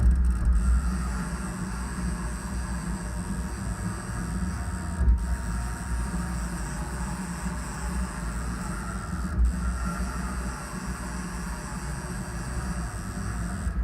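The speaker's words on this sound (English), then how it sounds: "I'm going to jog back and forth on X and just make sure that my vise is relatively square here" A HAAS CNC mill jogging its X axis back and forth to check a vise for square, giving a steady low mechanical hum and rumble with a few brief thumps at the direction changes.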